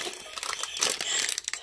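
Small scissors snipping and crinkling open a plastic bag of dry great northern beans in a kitchen, a close, brief run of crisp rustling and crackling with no talk.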